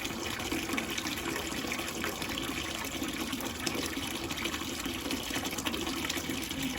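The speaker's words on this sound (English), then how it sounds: "rinse with clean, cool water until this runs clear" Clean cool water rinses through a Carpigiani 1131 ice cream machine in a continuous, even gushing flow at moderate level, steady from start to finish.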